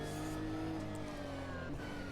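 Nissan race car engine in the Automobilista 2 sim racing game, droning steadily at high revs on track with a sustained harmonic whine, loud and alone with a slight pitch dip near the end.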